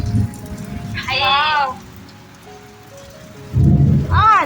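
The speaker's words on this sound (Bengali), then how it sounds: "প্রচুর জোরে হাওয়া দিচ্ছে, পুরো জল চলে এসেছে দরজার কাছে" Heavy rain and strong gusting wind roar across a rooftop during a storm, loud and steady, with voices shouting briefly over the downpour.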